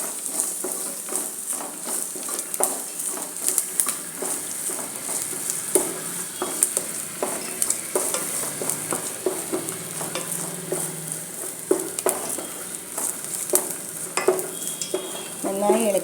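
Aval uppumavu with roasted gram and nuts stirred in a hot pan: a continuous close sizzle broken by frequent rhythmic scraping strokes of a spoon against the pan, repeated through the whole stretch with no talk.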